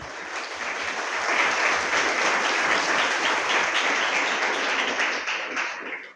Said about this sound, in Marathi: सरांसाठी जे आहे ते परत एकदा टाळ्या झाल्या पाहिजेत